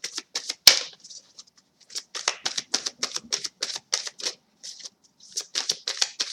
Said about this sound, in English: so let's just get some cards. Let's get 4 cards.